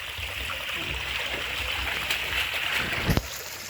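Water runs and splashes at the Tubod Spring bathing place in Magsaysay, Bohol, as a steady broad rush with a few sharper splashes near the end and no talk over it.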